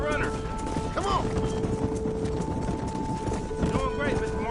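Horse hooves clip-clop steadily while cattle are herded in Red Dead Redemption, with a ringing tonal music bed and shouted speech over the top.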